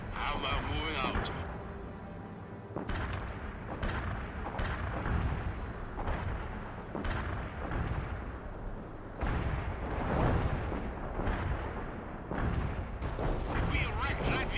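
Tank battle in the World in Conflict game: dense booming artillery-like blasts and gunfire roll on continuously across the scene, loud and steady, with game voice chatter underneath.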